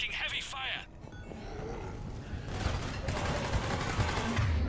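Heavy gunfire in the video game Mass Effect 3: a dense, sustained rattle of shots and explosions rising through the second half, mixed with game voices and growls.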